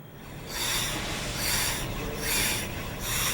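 A steel cabinet scraper with a burnished edge shaves down a wooden guitar neck, making steady, rasping strokes that swell and fade in a regular back-and-forth rhythm, heard up close with no talking.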